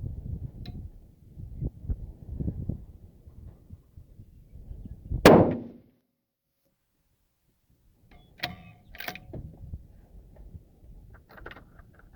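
A single sharp rifle gunshot fired during load development with CCI 34 primers, loud and close, followed by a brief decay and near silence, with handling clatter and faint movement before and after.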